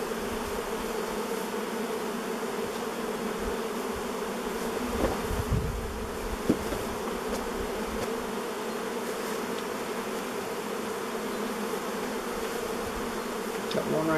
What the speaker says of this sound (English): Oh, I got bees going up my pant legs.